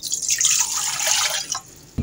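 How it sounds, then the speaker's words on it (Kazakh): Water is poured into a bowl of sifted flour mixed with sesame seeds and Provençal herbs for cookie dough: a steady, close splashing stream for about two seconds that stops abruptly, followed by a short low thump. "Су құямын."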